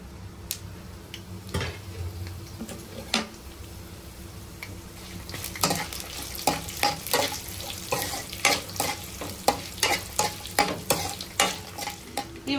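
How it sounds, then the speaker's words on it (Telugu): Ingredients for gongura chutney fry in a pan with a soft sizzle, while a utensil stirs and scrapes against the metal in irregular knocks that grow busier and louder toward the end. "ఇప్పుడైతే ఇవన్నీ మనం వేపేసుకుందాము"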